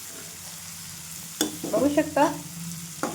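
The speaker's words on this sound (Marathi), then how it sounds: "तर याच्यानंतर आपल्याला खोबरं किस टाकून घेऊ. हे पण छान परतून घेऊया." Grated coconut with ridge gourd sautéed in a pan, a soft continuous sizzle with a few sharp scraping stirs of a spoon midway, as someone briefly speaks over it.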